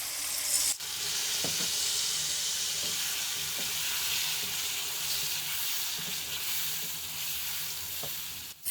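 Tomato paste frying in a karahi for chicken Afghani karahi, a loud, steady hissing sizzle up close, with soft scraping knocks from stirring every second or so and no speech.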